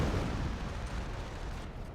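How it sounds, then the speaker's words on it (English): Howitzer artillery fire in a strategy video game, a dense roaring barrage of booms and rumbling blasts that fills the whole moment, loud and continuous. "Here comes the howitzer fire."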